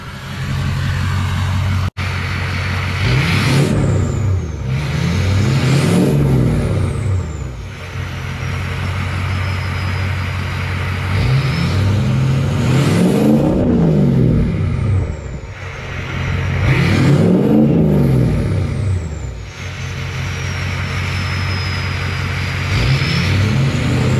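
A heavy 6.0 Powerstroke diesel engine revs repeatedly, rising and falling in several loud, close surges over a steady idle rumble, with an air-brake hiss near the start.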